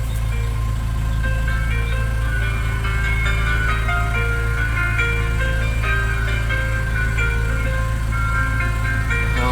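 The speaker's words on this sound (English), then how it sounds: "This is the sound quality from the speaker." Music played back as a test through a Sound Fire SF-1630 270-watt car speaker installed in a car, a steady melodic tune with heavy low-end hum running continuously at even loudness.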